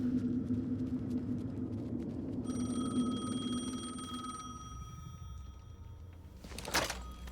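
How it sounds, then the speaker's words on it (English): Payphone ringing in the video game Alan Wake 2, a thin electronic ring held over a low ambient hum, fairly quiet, followed by a brief burst of noise near the end. "The phone again."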